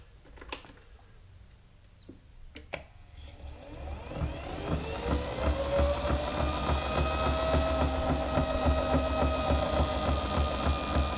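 A mobility scooter with a fault that stops it reversing is switched on after a few clicks and knocks. Its electric motor then whines up and runs steadily, growing louder and staying close.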